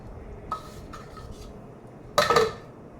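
A spoon mixes chana dal chutney powder in a bowl, giving a few soft scrapes and taps, then a brief louder clatter of metal against the dish near the end.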